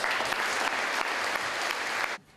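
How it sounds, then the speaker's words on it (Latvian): Audience applause at a church gathering in Riga: dense, steady clapping from many hands, fairly close and loud, sustained for about two seconds before cutting off abruptly. "Un tāpēc dodiet kungam pēdējos aplausus."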